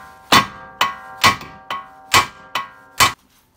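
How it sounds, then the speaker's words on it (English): Seven ringing metal hammer whacks on a stubborn Ford Mustang suspension part, loud and close, evenly spaced about half a second apart, each clang decaying quickly. "I'll give it a few whacks."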